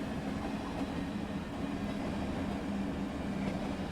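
Simulated sixteen-coach Thameslink Class 700 electric train rolling past in Train Sim World 3, a steady, loud continuous rumble with low rhythmic wheel noise and no pauses across the whole stretch.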